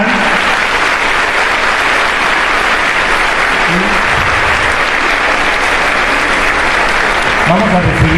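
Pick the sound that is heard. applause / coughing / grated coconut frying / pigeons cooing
applause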